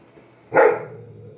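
A single sharp dog bark, fairly close, followed by a short fading tail and quiet background.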